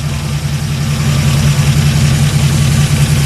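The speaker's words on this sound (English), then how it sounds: "Some of you people may have never heard a 1941 Buick run." A 1941 Buick engine runs at idle, a steady low throbbing rumble held close and loud throughout, with no talk.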